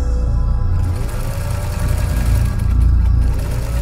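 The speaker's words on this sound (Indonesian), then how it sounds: "Kok ada suara mesin jahit?" A sewing machine running steadily in a radio horror story, a continuous mechanical hum with a low rumbling drone that stays loud and close throughout, with no voices.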